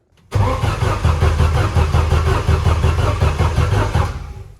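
A turbocharged Volvo wagon drift car's engine cranks over on the starter with its ignition coils unplugged, a steady rhythmic churning that starts abruptly and runs loud and close for about four seconds without catching, then stops.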